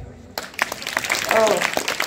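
An audience claps at a speech gathering: steady, dense applause starts abruptly and carries on close and loud, with a voice talking over it.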